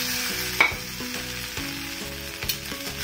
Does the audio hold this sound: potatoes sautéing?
yes